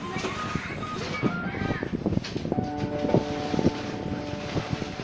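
Gusty wind buffets the microphone in a constant rough roar, with faint rattling and thin tonal hums beneath.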